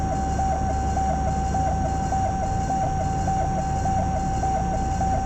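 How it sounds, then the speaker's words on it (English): Gear warning horn in a Carenado Cessna 337 in Microsoft Flight Simulator beeps in a rapid, steady pulsing pattern throughout, sounding over a constant droning engine hum. "That annoying noise you can hear is the gear warning horns."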